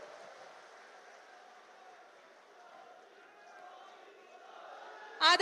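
Crowd at a political rally in Churu, Rajasthan, addressed by Prime Minister Narendra Modi: a steady, distant wash of applause and cheering runs throughout, ending with a couple of loud, close thumps.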